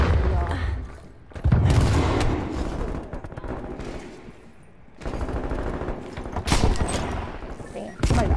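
Rapid gunfire crackles in a first-person shooter match, bursts of automatic fire and heavy booms coming in waves, with a player talking over the action.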